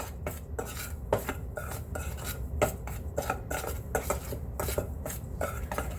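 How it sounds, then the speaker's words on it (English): Quick stirring of dry corn bread ingredients in a bowl, a steady run of scraping, clinking utensil strokes against the dish, close and fairly loud with no talking. "I'm going to go ahead and give that just a quick stir, just to incorporate all of the dry ingredients"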